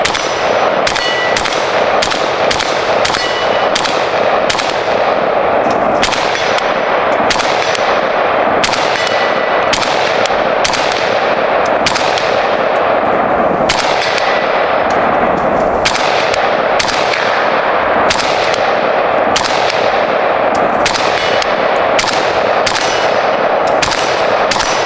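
A steady string of AK rifle gunshots, some with a shorter barrel, rings out at an outdoor range, sharp loud reports spaced irregularly over a constant background roar, with no talking.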